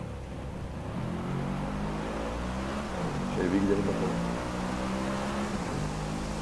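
Car engine in the Driveclub racing game, a low steady drone with layered harmonic hum that swells briefly as it revs midway, heard under someone speaking.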